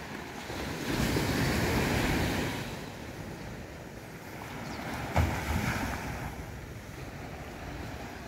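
Calm sea waves wash onto a beach at Figueira, a steady broad rush with a swell near the start and a brief knock midway, roughened by wind buffeting the microphone, with no talking.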